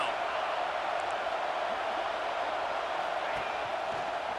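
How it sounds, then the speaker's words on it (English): Stadium crowd in an EA Sports College Football 26 game roars steadily on a defensive third down, a loud, unbroken wash of cheering throughout. "Decibels rising as the crowd gets behind this defense on 3rd down."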